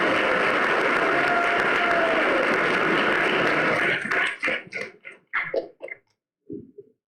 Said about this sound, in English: let's clap again for this video